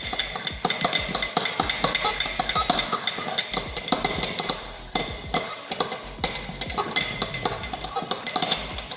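A benzoic acid mixture is stirred in a glass container for mouthwash, a utensil clinking against the glass in quick, repeated taps with a steady rhythm, close and fairly loud.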